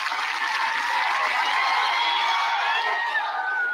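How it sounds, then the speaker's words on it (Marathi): Loud, steady applause from a large crowd at an outdoor community rally, with cheering and whoops mixed into the dense clapping, sustained throughout without pause. "जोरदार टाळ्या वाजवून"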